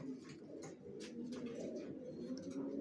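Racer pigeons of the Janssen line coo softly in a loft, low repeated burbling calls under faint chirps and a steady background hum.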